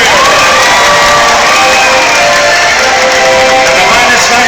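Loud, dense crowd noise at a profit-sharing award event, with cheering, shouting and a steady roar of many voices filling the whole stretch and a whistle-like tone rising through it.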